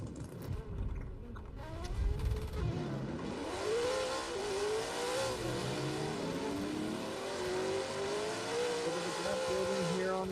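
Two racing sim cars, a Nissan S15 and a Toyota A90 Supra, scream through a drift battle, engines rising and falling in pitch with tire squeal, under a commentator's voice.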